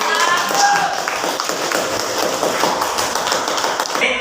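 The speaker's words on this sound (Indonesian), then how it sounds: "Oke, aplaus dulu." A classroom group claps in a dense burst of applause that runs evenly for a few seconds and fades at the end, with voices mixed in.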